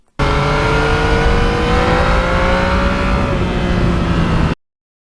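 A 2020 Yamaha MT-09 motorcycle engine hums loudly and steadily while riding, its pitch holding and gradually easing, with wind rush beneath, then cutting off abruptly.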